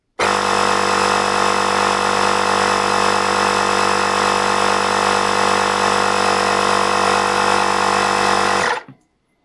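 Teslong dual-cylinder portable tire inflator, a 150 PSI 20V battery air compressor, running steadily as a loud, continuous mechanical drone with a fast pumping pulse for about nine seconds, then stopping abruptly.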